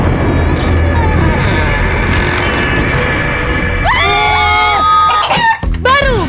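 A chicken squawks loudly in a burst of shrill, wavering cries near the end, over a busy, dense backdrop of music and noise in a TV commercial.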